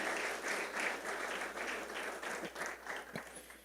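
A congregation applauds during a Baptist missionary church service, a steady, fairly faint patter of many hands that thins toward the end.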